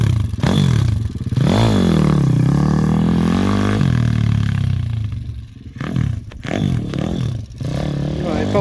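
A motorcycle engine revs up and down in loud, swooping surges after being started with choke and petrol on, with some clatter and rising and falling pitch throughout.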